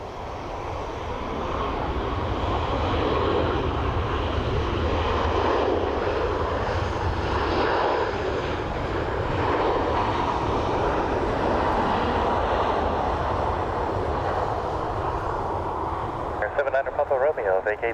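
Ryanair jet airliner engines at Dublin Airport: a loud, steady roar that holds for about sixteen seconds, with a voice talking faintly underneath near the end.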